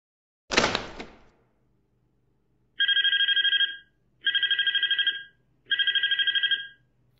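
Telephone in the video game Graveyard Shift rings three times in evenly spaced trilling bursts, clear and close, after a single sharp thud at the start, with no talk.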